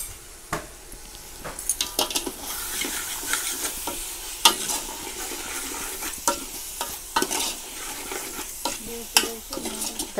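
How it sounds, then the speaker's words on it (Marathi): Spices and turmeric stirred in a frying pan for potato curry, a steady sizzle broken by repeated sharp scrapes and clinks of the spoon against the pan, close and fairly loud throughout. "मसाले पण छान असं मिक्स करून घेते।"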